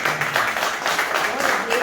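Applause from a church congregation, a steady broadband patter of many hands clapping that fills the whole moment at an even level, with faint voices mixed in.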